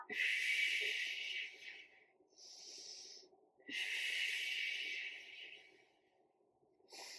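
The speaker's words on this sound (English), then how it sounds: "Big breath in and out." Deep breaths drawn in and blown out during an at-home, no-equipment strength workout: two long, loud, airy exhales with a shorter breath between them and another starting at the end, close and with no talk.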